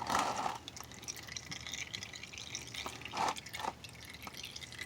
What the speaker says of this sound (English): And there it goes, right into the pan.